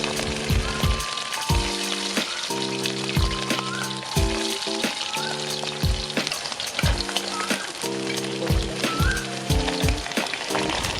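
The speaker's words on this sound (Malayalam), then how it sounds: "കടുകൊക്കെ പൊട്ടിക്കഴിഞ്ഞതിന് ശേഷം നമുക്ക് വെളുത്തുള്ളി ചേർത്ത് കൊടുക്കാം." Garlic sizzles and fries in hot sesame oil with popped mustard seeds in a heavy-bottomed uruli for a dates and lime pickle; a continuous crackling sizzle with stirring scrapes runs beneath steady background music.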